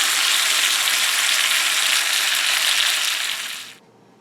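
Ham sizzling and frying in a single pan for a pork and beans meal, a steady loud crackle that holds for nearly four seconds before cutting off abruptly.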